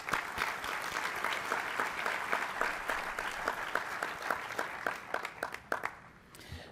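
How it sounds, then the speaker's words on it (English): Audience applause fills an opening plenary session hall, sustained crowd clapping with distinct individual claps that thins out and fades near the end. "Please give our friends from the NLC a round of applause."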